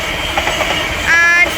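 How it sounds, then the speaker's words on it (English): A Class 350 London Northwestern Railway electric train passes near Kingsthorpe on the West Coast Main Line with a steady rumble and rail noise, rising briefly with a high wheel squeal toward the end. "there's the London Northwestern Railway service from Birmingham New Street to Northampton, about to pass by"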